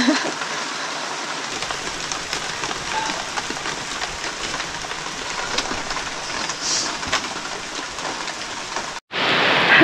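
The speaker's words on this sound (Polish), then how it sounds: "Myślisz, że przechodzi i znowu dowala deszczem." Heavy rain pours steadily during a gravel bike ride, a loud, constant hiss with scattered patters and ticks, broken by a brief gap before a final burst of noise.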